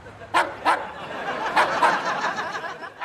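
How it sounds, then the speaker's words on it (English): A dog barks several times in a sitcom scene, short sharp yaps coming in uneven bursts, moderately close and clear with little else around. "Is that a dog?"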